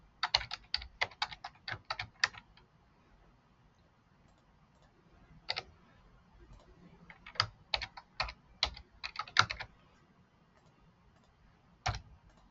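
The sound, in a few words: fast typing on a computer keyboard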